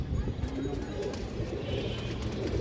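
A female pigeon gives low, repeated coos close by while someone talks over the birds. Light chirps and a brief wing flutter sound faintly around them.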